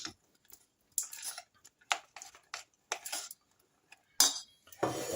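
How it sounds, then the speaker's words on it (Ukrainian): A spoon stirs a walnut mixture into hot, quickly setting syrup for walnut brittle, giving sparse, irregular scrapes and clinks against the pot, close and fairly quiet with silent gaps, ending in a louder scrape. "Все гарненько розмішую, тому що сироп дуже швидко застиває."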